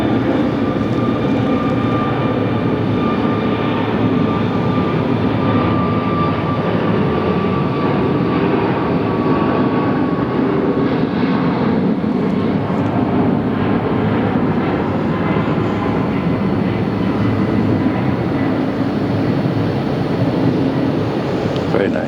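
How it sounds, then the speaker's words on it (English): Southwest Airlines jet engines spool up for takeoff at Phoenix Sky Harbor airport, a loud, steady, broad roar that holds unbroken throughout. "here's something spooling up right behind it"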